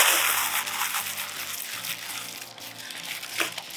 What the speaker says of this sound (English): take our piece of parchment paper and crumple it up